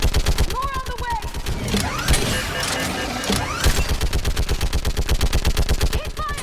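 Sustained automatic gunfire rattles through a Mass Effect 3 battle, dense rapid bursts running almost the whole time with brief lulls, loud and close, mixed with game effects and shouted voices.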